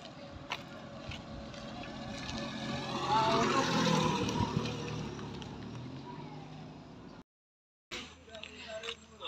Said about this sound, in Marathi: मागाचा ही रोड, गाडी आली वाटतं.